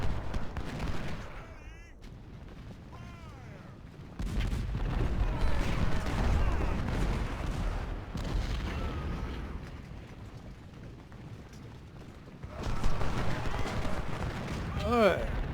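Artillery cannons fire during a Civil War battle at Stones River in Ultimate General: Civil War, heavy booms and rumbling volleys rolling in bursts, with someone talking over the continuous battle noise.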